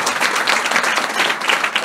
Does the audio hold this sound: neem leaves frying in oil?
no